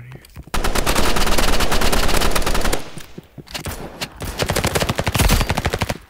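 Rapid automatic gunfire from the Roblox game Rivals, on the Docks map, rattles in two long bursts separated by a short pause, loud and close with no talk over it.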